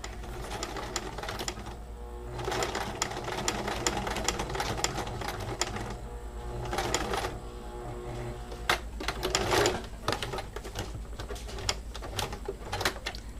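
A sewing machine stitching fabric for a small green bag, running in steady rapid mechanical bursts with short pauses between runs, close and clear, with no speech.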